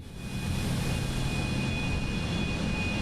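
A Cessna C750 Citation X business jet taxis in Microsoft Flight Simulator 2024, its engine noise a loud, steady broadband roar with a thin high whine held throughout and no talking.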